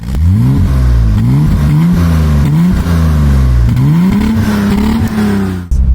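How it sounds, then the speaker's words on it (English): A stock BMW E30 inline-six engine revs loudly and continuously up close, its throaty exhaust note rising and falling through several surges over about six seconds. "But the exhaust note actually sounds really nice"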